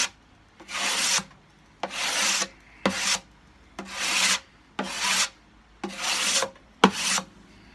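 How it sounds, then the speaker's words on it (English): A cabinet scraper draws over and over across a guitar body, taking the shellac finish down toward the wood in seven close, rasping strokes, each about half a second long with short pauses between, and no talking. "you can scrape it right down to the wood and you will not hurt your guitar"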